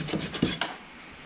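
A hand rasp filing and rounding off the corners of a horse's hoof during hoof care, a few short, close scraping strokes in quick succession, then quiet.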